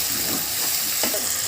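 Vegetables for a Tamil fish curry sizzle and fry steadily in a hot pan, with a brief scrape of stirring near the end; no one speaks.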